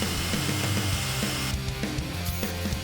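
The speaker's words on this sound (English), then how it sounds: "Using a disc sander, we're going to round off the corners and smooth the edges." A disc sander rounds the corners and smooths the edges of a small wooden sign. A close, steady motor drone with grinding texture shifts in pitch as the wood is pressed against it, and no one speaks.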